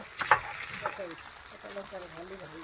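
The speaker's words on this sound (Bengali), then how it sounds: "তেল গরম হয়ে গেছে মাছগুলো ছেড়ে দিচ্ছে" Pabda fish dropped into hot oil in a Bengali village kitchen, crackling and sizzling with sharp pops near the start, steady frying underneath while a voice talks quietly over it.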